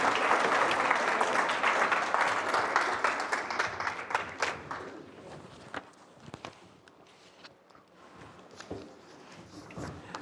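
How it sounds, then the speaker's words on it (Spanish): An audience applauding at an academic lecture in Spanish welcoming a professor, dense clapping that is loud at first and then thins into scattered claps and fades, with footsteps and shuffling toward the end. "El aplauso también."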